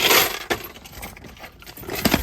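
Car keys for a Corsa are grabbed, giving close, bright metallic jangles in short bursts at the start, the middle and the end.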